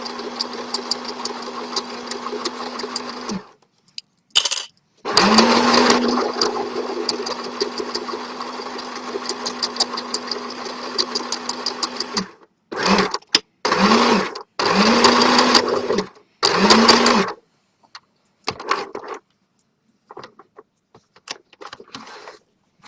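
Sewing machine stitching square pieces of tie-dye fabric, running in steady whirring bursts forward and back, with a long run at first, then several short starts and stops, and quiet gaps between them.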